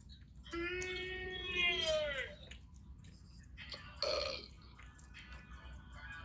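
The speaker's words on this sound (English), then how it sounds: "Stop burping, you're a pig." A long, loud, drawn-out burp with a rising, wavering tone, followed by a shorter second burp a few seconds later, both standing out over a steady low background hum from a game.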